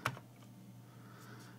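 A few soft, scattered keystrokes on a computer keyboard as a zip code is typed, quiet and close with faint room noise between the taps.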